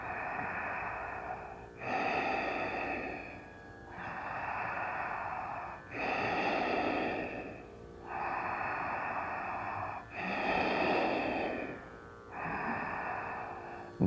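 Slow, deep breaths during a yoga pose come close and clear in an even rhythm, with a full inhale or exhale roughly every two seconds in a quiet room.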